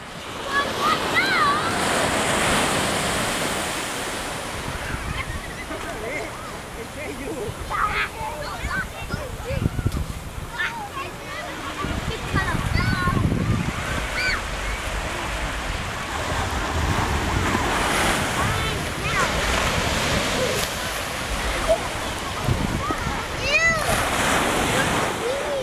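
Ocean waves break and wash on a beach at Santa Cruz, a continuous surf roar with wind buffeting the microphone and children's voices and shouts heard over it.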